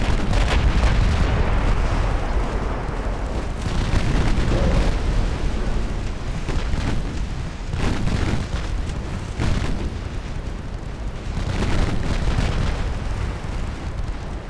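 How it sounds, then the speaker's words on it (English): Ammunition detonation aboard a warship in Ultimate Admiral Dreadnoughts, a loud sustained roar of explosions and booming blasts rolling on for the whole stretch with repeated heavy bursts and no talking. "This one had an ammo detonation."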